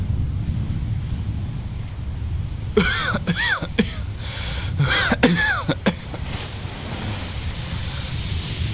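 A man coughs in a few harsh, closely spaced bursts midway through, close and fairly loud, over a low rushing background of wind.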